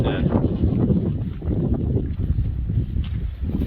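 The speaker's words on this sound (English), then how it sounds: "Wind picking up, so she's wrapped in her hat." Wind gusting outdoors near a Nevada hot spring, a loud, continuous rumbling buffet across the microphone with no talk.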